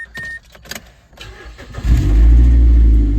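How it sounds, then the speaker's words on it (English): A Mazda 5 sitting unused for a week cranks after a few clicks and clunks, then fires into a loud, deep, steady engine rumble close by. "We're going to start up the car for the first time in about a week"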